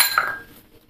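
A utensil strikes a bowl of mixed vegetables for noodle balls, potato, carrot, cabbage, beans, onion, coriander leaves and green chilli, giving one bright ringing clink that fades away within a second, close by.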